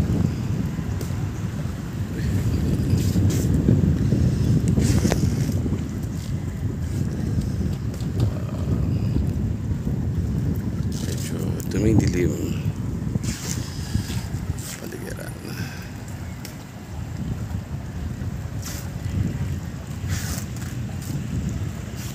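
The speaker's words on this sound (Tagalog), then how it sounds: "malakas ang hangin ito sa araw na ito" Strong wind gusts across Lucena Port, a seaport in Quezon with a large ship aground, roaring as steady low rumble and microphone buffeting throughout, with a voice talking intermittently over it.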